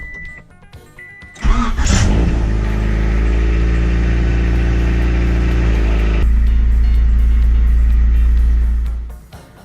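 A Honda Civic RT4WD wagon with a newly installed muffler cranks briefly, catches and settles into a steady, loud idle that holds for several seconds before cutting off, with no talking.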